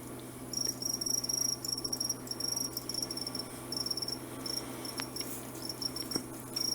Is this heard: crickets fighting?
yes